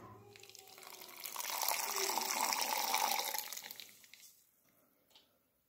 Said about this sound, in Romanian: să curgă, să iasă aerul, și începe să iasă apă